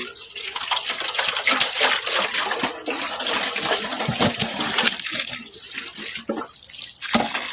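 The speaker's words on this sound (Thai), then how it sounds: "อันนี้เราก็จะมาล้างน้ำให้สะอาด" Close, loud splashing and running water as freshly dug water chestnuts are washed clean of soil, with continuous sloshing and irregular bursts throughout.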